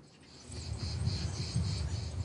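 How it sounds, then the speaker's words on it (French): Cicadas and other insects sing in the Puglia countryside among olive trees, a steady pulsing chorus with no voices. "Bercée par le chant des cigales et le murmure des oliviers"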